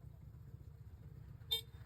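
Stock horn on a Yamaha NMAX scooter giving one short, clear beep after a quiet idle-like hum.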